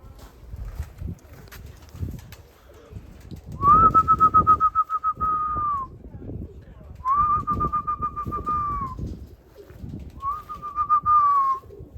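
Pigeons coo in three drawn-out, whistling calls separated by short pauses, close by, over a low rustling background.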